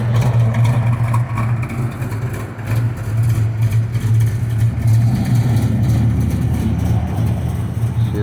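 A car with a loud, aggressively cammed engine idles close by, its exhaust pulsing in a lumpy, uneven chop over a heavy low rumble that holds steady throughout.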